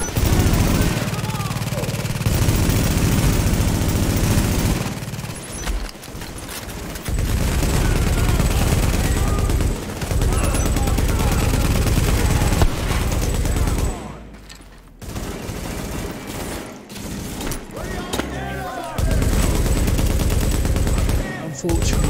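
Video game gunfire in rapid automatic bursts and volleys, loud and close, broken by short pauses and a few booms, with a voice speaking in places.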